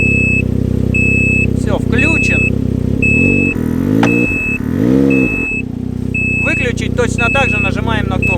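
A turbocharged Ski-doo snowmobile engine idles and revs in reverse, and a regular electronic beep repeats through it. Someone talks over the engine at close range.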